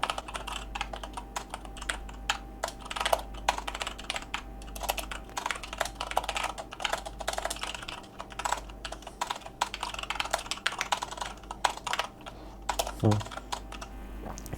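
Fast, continuous clicking of a computer keyboard as C++ code is typed, close and steady with brief pauses, and a faint low hum beneath.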